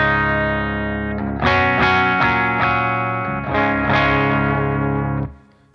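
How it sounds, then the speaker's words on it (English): A Les Paul electric guitar plays straight into an amp's clean channel, with several ringing strummed chords and sustained notes that decay at the end, sounding saturated and effected rather than clean. "So I've got the Les Paul. This is how it sounds into the clean."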